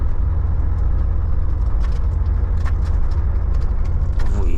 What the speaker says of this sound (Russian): Ну, я на 6-й газанул